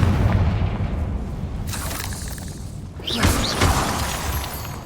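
A Confringo explosive spell in Hogwarts Legacy, a loud booming blast with a shattering burst and a second crackling impact following close after.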